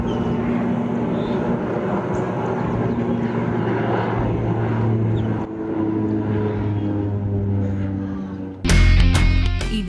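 A small propeller airplane flies over Tiruchirappalli with a continuous droning engine hum that holds steady for several seconds. A sudden louder burst of noise comes near the end, and no one speaks.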